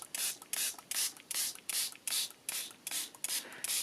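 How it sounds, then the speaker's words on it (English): A spray bottle mists water onto a foam-stamped Christmas card in short hissing bursts, about eight quick sprays in a steady rhythm, close and crisp with nothing else heard. "So I'll just spray it to make sure it's working."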